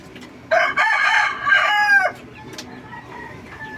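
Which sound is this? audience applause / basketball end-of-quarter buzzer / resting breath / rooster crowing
rooster crowing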